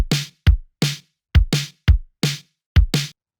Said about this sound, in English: So I just penciled in a pattern with our drum kit